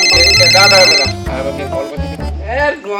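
A telephone ringing loudly for a wrong-number call, a repeating electronic ring tone close by with voices chattering over it.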